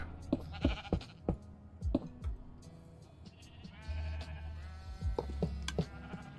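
Repeated short sheep bleats from Minecraft come in quick separate bursts, some close and loud, over a steady low game hum. No one speaks.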